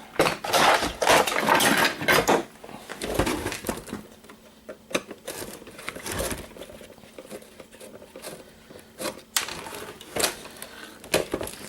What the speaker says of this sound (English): Start by unscrewing some of these screws.